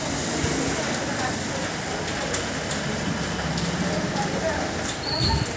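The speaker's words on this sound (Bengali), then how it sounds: "আমাদের এখানে বৃষ্টি স্টার্ট হয়ে গেছে" Rain just beginning to fall outdoors, an even broadband patter with faint background noise and a brief chirp near the end, no clear voices.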